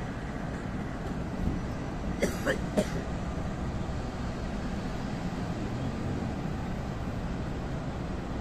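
Steady low rumble of a passenger train rolling past in Indonesia, heading into the Manggarai rail depot, continuous and fairly loud, with a few brief metallic clicks partway through.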